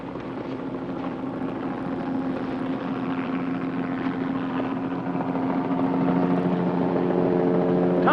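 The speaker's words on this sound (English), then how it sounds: "chopper coming in" A helicopter drones with a steady, low rotor hum that grows gradually louder as it approaches, with no voices over it.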